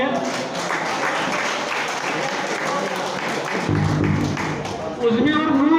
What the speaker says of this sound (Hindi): जोरदार तालियां फर्स्ट प्राइज के लिए